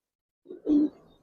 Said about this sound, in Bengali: মানে নর বাচ্চাটা এখনই অনেক ভালো ডাকে